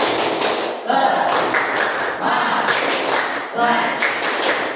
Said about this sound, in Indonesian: ini tepuk semangat